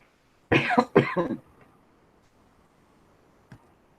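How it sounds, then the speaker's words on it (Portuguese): A woman coughs twice in quick succession, close and sharp, then stays quiet apart from a faint click near the end. "eu estou tossindo pra caramba"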